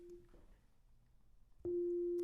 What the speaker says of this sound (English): The level of oscillator A by default is 12 decibels, and we just have a regular sine wave.